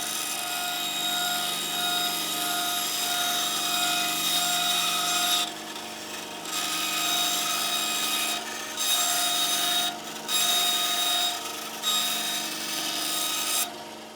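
A table saw cuts thin ebony strips for violin purfling, giving a steady, loud whining drone broken by several short gaps where the cutting pauses.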